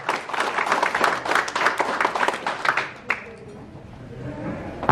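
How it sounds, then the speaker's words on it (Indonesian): An indoor audience at a press conference claps in a steady burst of applause for about three seconds before it dies down, leaving a quiet room with a faint murmur. "Kita berikan aplaus yang mulia."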